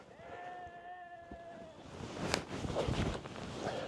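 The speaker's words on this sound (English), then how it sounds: "That sheep sounds like it's having a bad day" A sheep bleats in a long wavering, strained call out on a golf course, heard fairly clearly before giving way to outdoor rustling and footsteps-like noise.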